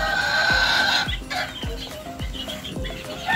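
Young gamecock stags clucking and attempting to crow in the morning, several short descending calls repeating about every half second over a steady outdoor background, close and clear.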